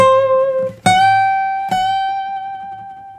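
Solo acoustic guitar plays the B section of a song, three struck notes left ringing long, with a bent note sliding in pitch, close and clear.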